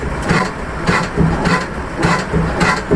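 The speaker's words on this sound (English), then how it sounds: "This is a diesel compression engine." A diesel compression engine running nearby at a pioneer thresher and hobby reunion, a rhythmic chuffing thump repeating about twice a second with a low steady rumble underneath.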